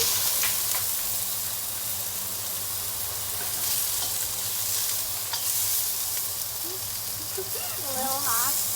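Ginger dropped into hot oil for tinolang manok sizzles and fries steadily and loudly throughout, with stirring scrapes and brief clatters on top and a faint voice near the end.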